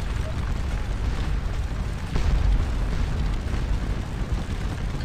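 Infantry squares and lines trading musket volleys at Waterloo in Scourge of War: a continuous heavy rumble of distant massed fire with dull booming bursts.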